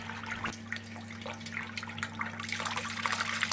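Wort runs through a slightly cracked valve into a fermenter on a Brewtools B40pro electric brewing system during a Citra pale ale brew, a steady rushing trickle over a constant low pump hum, close and continuous without speech.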